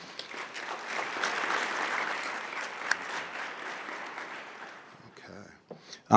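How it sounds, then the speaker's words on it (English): An audience at a National Business Honor Society induction ceremony claps steadily for several seconds, fairly loud and dense, then thins out and fades toward the end. "Let's give them a round of applause."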